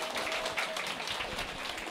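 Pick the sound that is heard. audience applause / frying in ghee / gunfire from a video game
audience applause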